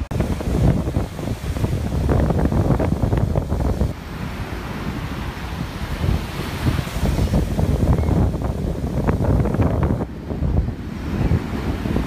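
Ocean surf rolling in steadily at Myrtle Beach, with strong wind buffeting the microphone throughout; continuous loud broadband roar with no talking.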